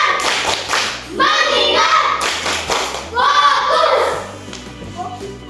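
A school class performs a rhythmic clapping routine, bursts of claps in patterned beats alternating with children's chanting voices, loud and close in a classroom.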